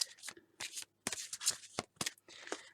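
Tarot cards are shuffled close up in several quick riffling bursts separated by short pauses, crisp and fairly quiet, with no talking.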